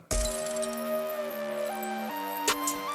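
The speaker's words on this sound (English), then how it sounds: "glass breaking, trap drums and bass" Glass breaking as a sound effect in a trap track opens with a sharp shattering crash, then sustained synth and bass tones continue, with a second bright crash near the end.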